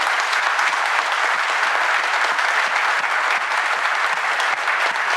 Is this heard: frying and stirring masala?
no